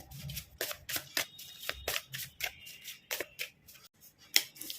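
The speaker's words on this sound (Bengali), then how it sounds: "আমি কার্ডগুলো বার করে নিই" Tarot cards are drawn out and handled, making crisp, close paper snaps, slides and flicks in an uneven rhythm, with no one talking.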